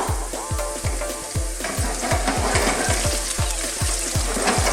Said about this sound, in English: Now it's quite important that we cook this garlic and the ginger